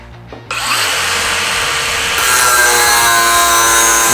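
A DeWALT cordless angle grinder spins up and bites into square steel tubing, a loud, steady high-pitched whine with harsh cutting noise that grows louder partway through and holds to the end.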